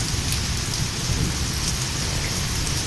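Heavy rain pours down in Rawalpindi, a dense, steady roar of drops hitting surfaces, loud and unbroken with no voices.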